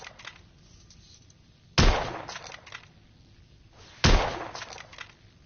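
Two heavy gunshots ring out a couple of seconds apart from a firearm in the video game The Order: 1886, each a sharp, loud blast with a lingering tail over a quiet background.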